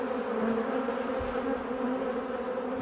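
Honeybees from an open hive during an inspection, a steady close droning buzz with layered hum tones that holds loud and unbroken throughout.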